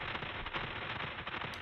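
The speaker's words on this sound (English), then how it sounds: "It's just a granular texture that I threw on top of it with some reverb" Dense granular texture soaked in reverb plays alone as a soft, steady crackling wash in a techno production, faint and continuous like fine rain without any clear rhythm.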